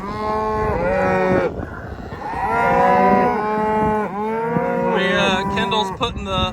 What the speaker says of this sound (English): All right, we're loading the cows and calves up.